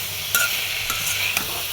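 Sweet pumpkin fry sizzling steadily in a pan while a utensil stirs it, with a few short scraping strokes against the pan over the constant frying hiss.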